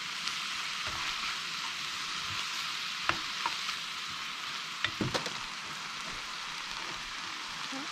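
Mince with tomatoes and shallots frying in a pan: a steady close sizzle throughout, with a few sharp clicks and taps of stirring scattered across it.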